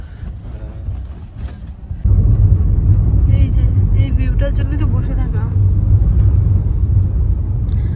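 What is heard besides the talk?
road traffic jam of cars near Sevoke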